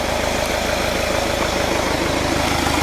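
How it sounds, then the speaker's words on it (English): A 1.7-litre diesel engine in a 2014 Kia Carens idles steadily with a low, even rhythmic chug and a faint electrical whine, continuous and close throughout. "that's with the engine running."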